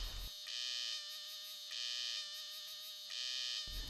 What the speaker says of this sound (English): The male cicada continues to chirp shrilly